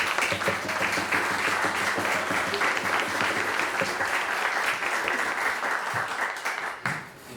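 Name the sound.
audience applause for composer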